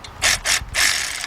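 A ratchet tightens the caliper bracket bolts on a 2006 Cadillac DTS, giving three quick, close, crisp bursts of clicking, the last one longer.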